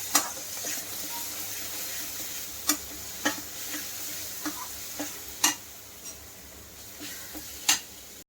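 Chopped onion frying in a pan for chicken korma, a soft steady sizzle with occasional sharp ticks and clicks from stirring against the pan.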